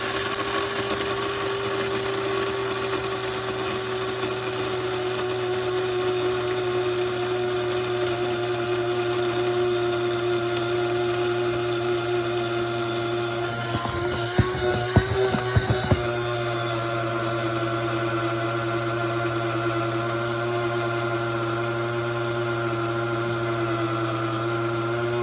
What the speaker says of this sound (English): You push the grinder up.